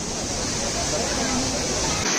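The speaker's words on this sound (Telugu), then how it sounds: "వాటర్ ఫాల్స్ బ్యాక్ సైడ్ నుంచి వాటర్ ఫాల్స్ వస్తూ ఉంది" Water cascades like a waterfall at Chakra Tirtham in Tirumala, a loud, continuous rushing roar close by with no pauses.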